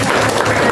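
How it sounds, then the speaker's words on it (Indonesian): Applause from a class of students fills a short burst, a dense steady patter of many hands clapping together in a classroom at close range, with no talk over it. "Ya, tepuk tangan."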